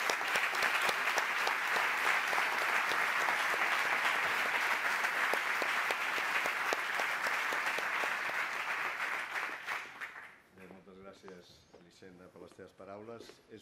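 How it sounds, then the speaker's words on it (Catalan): An audience applauds the hospital director at the opening ceremony of a pediatric cancer center in Barcelona, with loud, dense, steady clapping for about ten seconds that fades as a voice starts speaking. "Un fort aplaudiment per ell."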